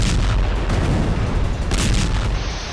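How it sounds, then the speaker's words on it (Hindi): Israeli bombardment shakes Gaza, with heavy explosive booms and rumbling blasts rolling together into a loud, continuous roar, dense and overlapping with no clear gaps and no voices. "बेहद ही विस्फोटक और विनाशक अंदाज में बमबारी की जा रही है।"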